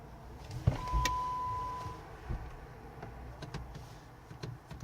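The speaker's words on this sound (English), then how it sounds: "I hear my pump running" A Jeep Wrangler's windshield washer pump whirs with a steady electric hum for about a second, close by, after a click, followed by faint clunks and quiet rustling.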